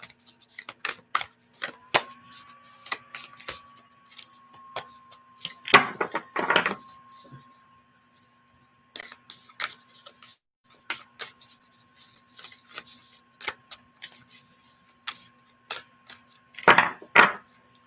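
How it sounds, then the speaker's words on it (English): Playing cards being shuffled by hand, a deck that is hard to hold, giving scattered dry riffles and flicks with two louder bursts of rapid fluttering, close and alone over a faint steady tone. "it's very difficult to shuffle"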